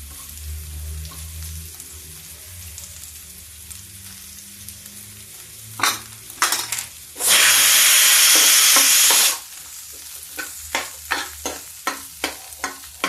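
Onion fries in a pan with a soft sizzle, broken by clattering stirs and one loud burst of hissing, then a run of rhythmic scraping strokes.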